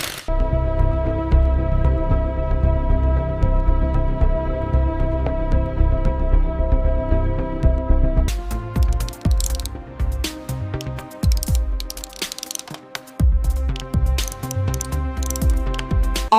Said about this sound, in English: tighten the main valve connection